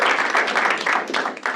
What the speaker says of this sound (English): let's give a round of applause for the pirate